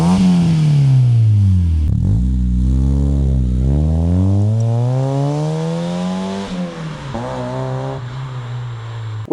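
A Mazda Miata with a 1.6 engine, X-Force headers and a CorkSport catback exhaust revs hard nearby, its engine note rising and falling through several loud sweeping pulls with a rasping edge.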